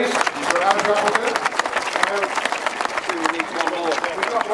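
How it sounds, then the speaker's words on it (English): At a grasstrack racing meeting, a crowd applauds a race winner with uneven clapping beneath someone speaking loudly over a PA. "Big round of applause, please."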